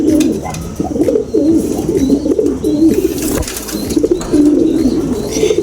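Racing pigeons coo continuously in a loft, their low, throaty, rolling calls layered close and loud with faint rustles and a brief flap partway through.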